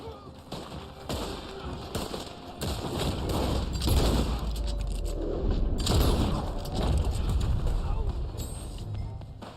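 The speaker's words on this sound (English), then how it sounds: "See, that's the Springfield rifle right there." Springfield rifle shots in a Red Dead Online gunfight, sharp cracks and several bursts of firing layered over game ambience, fairly loud, with a voice talking over part of it.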